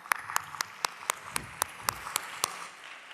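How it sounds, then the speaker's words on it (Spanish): Slow, sparse clapping at a university research talk in Ceuta, about a dozen distinct, evenly spaced claps ringing out one after another in a reverberant hall rather than a full audience ovation. "Un aplauso."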